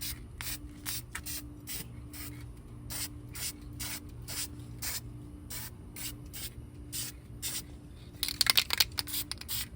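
An aerosol spray can used for painting brake calipers gives a run of short, evenly spaced hissing and rattling bursts, close and moderately loud, growing busier near the end.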